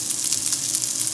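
Chicken pieces for crispy tacos fry in a pan with a steady, close sizzle, a broad hiss that holds evenly through the moment with no talking.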